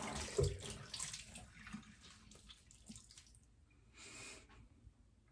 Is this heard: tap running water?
yes